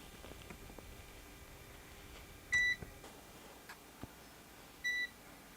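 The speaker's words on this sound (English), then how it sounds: "it's beeping to let you know that there's no AC power" Goldenmate 1000VA UPS running on battery after its AC power is unplugged, giving two short, clear electronic beeps a couple of seconds apart over a quiet room hum, with a few faint clicks in between.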